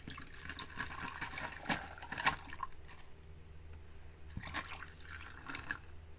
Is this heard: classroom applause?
no